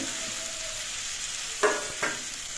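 Potatoes dropped into hot oil left from fried spices for a village-style pumpkin curry, giving a steady, fairly quiet sizzle with two brief louder bursts near the end.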